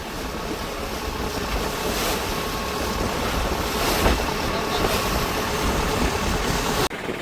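Constant roar of storm wind and rushing waves around a rocking boat, loud and unbroken, with a rumbling low engine-like drone beneath.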